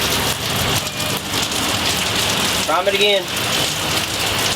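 Steady heavy rain pours at a cold roadside stop during an engine repair on a road trip, a dense constant hiss filling the scene while someone speaks briefly over it.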